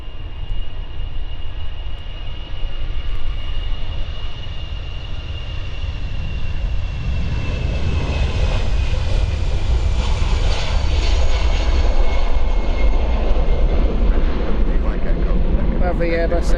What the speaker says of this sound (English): Lovely Airbus A320 there.